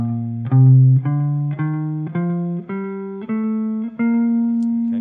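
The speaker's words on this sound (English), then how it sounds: "we're going to just play a major scale like this" An instrument plays a rising major scale, eight distinct sustained notes stepping upward at an even pace, clear and alone.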